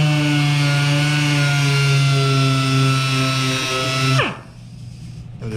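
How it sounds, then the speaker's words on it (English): A power sander smooths a loose paint edge on a Kawasaki 1400 motorcycle fuel tank, giving a steady, loud, close buzzing whine for about four seconds before it cuts off abruptly into quiet room tone. "So I'm gonna sand that little edge off."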